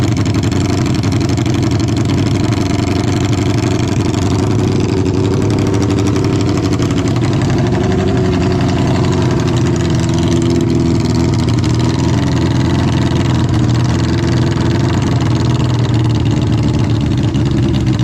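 A 1972 Honda CB500 Four motorcycle engine runs steadily at idle, close by and loud. The poorly running engine keeps up a continuous low, throbbing rumble with no talk over it.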